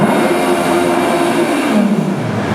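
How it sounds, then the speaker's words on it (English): Small remote control stunt car revving its motor at a stunt show, a loud continuous whine that climbs and then drops in pitch, heard alone without talk. "I can even rev the engine with the button in the center."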